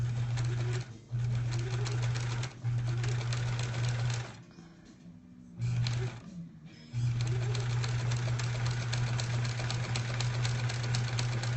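A sewing machine stitches a quilt block in long steady runs with a fast mechanical hum, stopping briefly several times and then resuming, close and clear with no talking.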